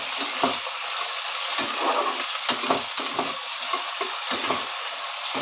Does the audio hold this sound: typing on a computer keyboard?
no